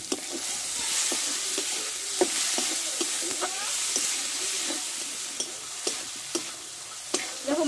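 A spice paste of chili powder and sugar sizzles and fries in a pan, constant hiss broken by sharp ticks and scrapes of stirring, close and moderately loud with no talking.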